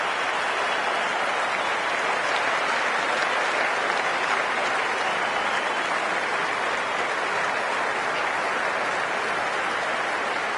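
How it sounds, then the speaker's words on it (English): Large stadium crowd in the Cricket 24 video game roars as players walk out for a Hundred match, a loud, dense, continuous wash of cheering and applause with no break. "it's a loud crowd as the players make their way out"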